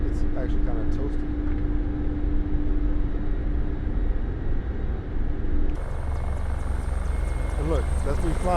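A steady, dense rotor and turbine drone from a Mi-24 Hind helicopter flying in the DCS flight simulator runs throughout with a tonal whine, and a person talks over it.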